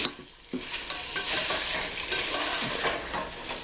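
Chicken sautés for a sausage and chicken jambalaya, giving a steady, close sizzle with stirring scrapes that kick in after a brief quieter moment, with no talking.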